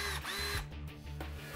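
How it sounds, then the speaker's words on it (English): A cordless power drill runs in a continuous, close, whining buzz with slight shifts in pitch, alone and without talk. "NASA didn't invent the cordless power drill, but they did help to make it a whole lot better"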